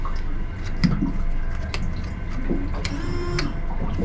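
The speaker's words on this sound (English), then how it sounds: "That's your window washer." A boat's window washer pump runs on a 2023 Stabicraft 2500 Ultra Cab XL, a steady mechanical whir broken by small splashy ticks and squirts, moderately close with no voices.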